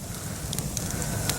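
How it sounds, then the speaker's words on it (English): Pine wood burns in a campfire outdoors in Arizona, giving a steady, soft roar with a few faint high ticks and pops scattered through it, close by and with no voices. "It doesn't snap, crackle, pop like normal pine."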